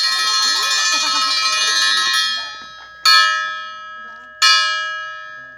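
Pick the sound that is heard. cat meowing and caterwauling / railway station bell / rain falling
railway station bell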